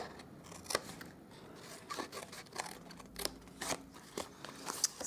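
Scissors cutting paper for a handmade reindeer gift box, a series of close, crisp snips and slicing strokes in an irregular rhythm, fairly quiet with light rustling between cuts.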